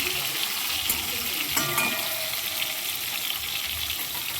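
Pieces of bhetki (barramundi) fish fry in a pan with oil, giving a steady, even sizzle and hiss throughout, close and fairly loud, with a few soft clinks and no talking.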